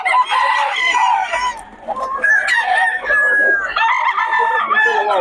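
Roosters and chickens at a Bocaue market crow and cluck close by, overlapping calls in loud bursts with a brief dip midway, no clear talk over them.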